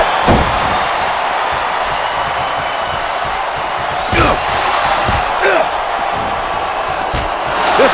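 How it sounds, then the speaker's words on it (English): A capacity arena crowd roars steadily throughout a Smackdown vs. Raw 2008 wrestling match, with occasional heavy slams and swells of cheering, loud and constant. "This capacity crowd is making their opinions known tonight."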